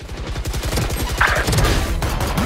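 Rapid automatic gunfire in Valorant, a close, fast rhythmic burst of shots that stays loud through the clip, with a few heavier impacts mixed in.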